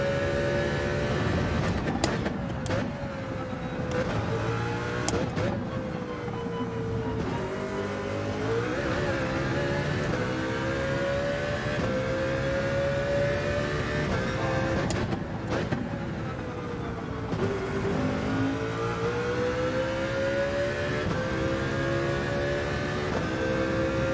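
A race car engine in Gran Turismo 7 during online Nations testing drones loudly and continuously, pitch climbing through the gears with several sharp upshift drops and brief lifts, with no talking over it.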